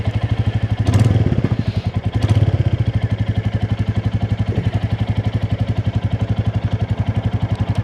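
A motorcycle engine idles with a steady, loud, close chugging pulse. It revs twice in short bursts near the start, then settles back to an even idle.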